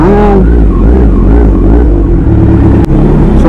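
A Kawasaki Z900 motorcycle engine revs close by, a loud, deep, rumbling engine note with a brief pitch rise at the start and a sharp transient near the end.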